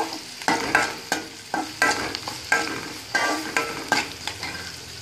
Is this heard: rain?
no